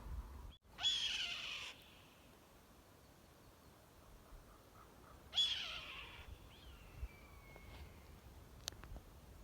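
Two bright, squawking bird calls near Abraham Lake, Alberta, one near the start and another about four seconds later, each followed by quieter chirps against a faint outdoor background.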